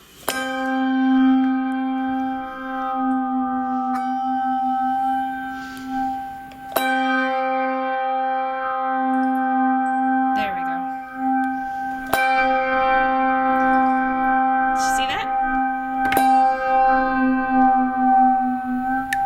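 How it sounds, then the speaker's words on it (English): A resonant metal bell, struck and dipped in water as a water gong, rings repeatedly, each strike followed by a long shimmering decay, with the pitch wavering and bending as it sounds. "We call that a water gong."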